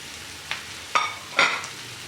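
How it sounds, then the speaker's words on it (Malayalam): Onion and capsicum pieces are sautéed in a pan for chilli pork. A quiet steady sizzle runs throughout, broken by three brief scraping stirs. "ഇനി നമുക്കിതിലേക്ക് അരിഞ്ഞ് വെച്ചിരിക്കുന്ന കാപ്സിക്കം കഷ്ണങ്ങളും കൂടെ ചേർത്ത് വീണ്ടും നന്നായിട്ട് വഴറ്റി കൊടുക്കാം"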